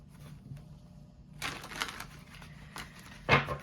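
Soft papery shuffling of tarot cards, with a few louder riffling bursts and a sharp snap near the end, close by and without talk.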